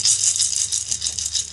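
A handheld rattle shaken steadily in a Norse witchcraft practice, a continuous bright shushing rattle with soft pulsing rhythm, close and fairly loud, no voices.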